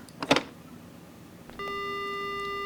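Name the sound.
phone ringing in video game Death Mark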